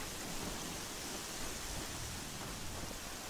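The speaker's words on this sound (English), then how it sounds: "Here comes the rain." Steady, dense rain hiss in the video game Horizon Zero Dawn, a constant broadband wash at moderate level with no breaks, drops or voices.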